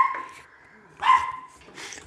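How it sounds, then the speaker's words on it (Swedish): A dog gives a couple of short, high yips and whimpering barks at close range, separated by quiet gaps. "Det är hunden här som tycker lite konstigt."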